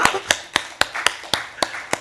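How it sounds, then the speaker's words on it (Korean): Eight evenly spaced claps in a steady beat, close and clear, come from a congregation at a Korean church dawn prayer service. "박수 한번 쳐주세요."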